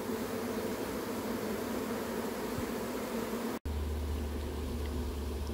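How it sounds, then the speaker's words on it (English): A honeybee swarm fans steadily at a settling site, making a dense continuous buzzing hiss close by. It is briefly cut by a sharp dropout, after which a low rumble rises underneath. "The girls are fanning."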